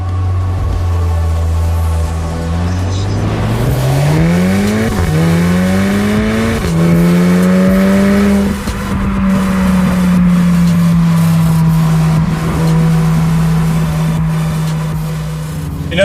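A Volkswagen Golf R 2.0 TSI with DSG gearbox accelerates hard from inside the car, the engine note climbing steadily through several gear changes before settling into a loud, steady cruise.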